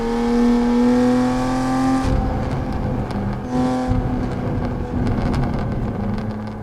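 A race car's engine echoes inside a tunnel in a racing video game. The loud, droning tones glide and shift as the car accelerates and changes gear, with a rougher, boomy reverberant roar in the later part.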